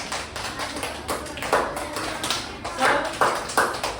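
A class of students in a practice teaching lesson does a tepuk semangat spirit-clapping routine: groups of brisk claps in a rhythmic pattern with short gaps, fairly close, with children's voices chanting along.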